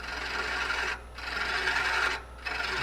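A lathe tool hollows out a tiny live-edge wooden succulent pot, producing a steady rasping cut that pauses twice for a moment before resuming, close and continuous with no talking.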